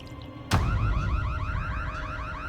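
An alarm abruptly starts wailing inside an abandoned hospital, a loud repeating electronic siren with rising sweeps that keeps cycling after a sharp onset.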